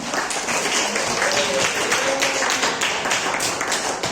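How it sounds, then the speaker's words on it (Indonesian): Audience clapping for a group presentation in a classroom on reproductive health, a dense steady patter of many hands, fairly loud and continuous, with faint voices underneath. "kita beri pula tepuk tangan"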